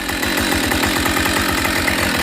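A Husqvarna chainsaw running steadily at high revs, loud and close, with a continuous buzzing engine drone and no voices.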